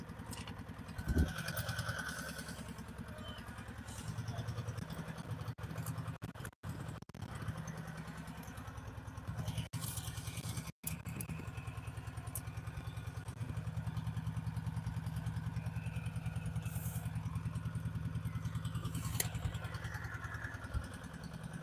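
A hand-sharpened chainsaw runs steadily and loudly through tight-grained wood, a continuous droning engine with brief dips, close by and alone for the whole stretch.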